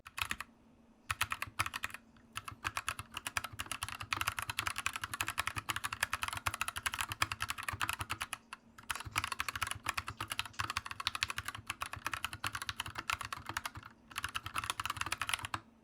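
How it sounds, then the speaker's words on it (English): Fast typing on an Anne Pro 2 wireless mechanical keyboard, a dense continuous clatter of key presses broken by a few short pauses, close and clear with no talk. "let's get on with a typing test."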